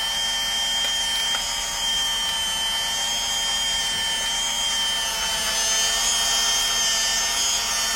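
A Milwaukee M18 cordless pipe threader cuts threads onto pipe, its motor and gearing making a steady, loud mechanical whine with a grinding edge that runs continuously throughout, with no speech.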